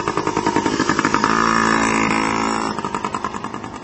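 A dirt bike races past close by, its engine buzzing and revving up, peaking loud as it passes and then dropping away with choppy throttle pulses.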